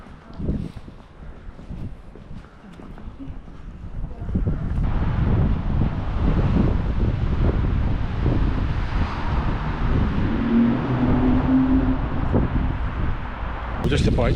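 Wind gusts buffet the microphone on a blustery day in Bratislava near St. Martin's Cathedral, a loud, rumbling roar that swells after a quieter start, with some voices mixed in.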